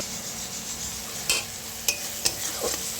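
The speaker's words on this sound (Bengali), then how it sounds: "মশলা একদম কষানো হয়ে গেছে সুন্দর একটা মশলার গন্ধ ছেড়েছে" Spices for a Bengali fish curry fry in a pan while being stirred, a steady close sizzle punctuated by a few sharp scraping strokes of the spoon.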